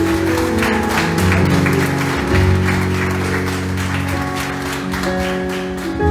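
A church congregation applauds during a sermon. The clapping is loud and steady and sits under sustained organ or keyboard chords that carry on throughout.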